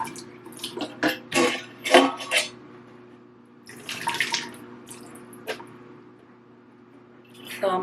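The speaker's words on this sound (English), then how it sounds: "So I'm gonna pour out my old water." Old water sloshes and splashes as it is poured out of a new tea kettle, in two uneven bursts of gushing with a short pause between them, close and fairly loud.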